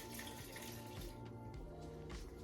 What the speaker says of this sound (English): we're gonna add 1 cup of room temperature water over the top